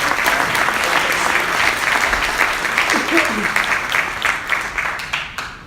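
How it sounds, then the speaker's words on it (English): Applause from an audience at a tech product launch panel in New York, sustained clapping that holds strong then thins and tapers toward the end, with a faint voice briefly audible beneath it. "How about a round of applause for our panelists?"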